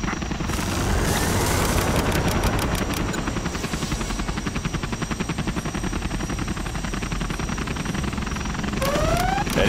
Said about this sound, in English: Supersonic aircraft, Aurora in flight.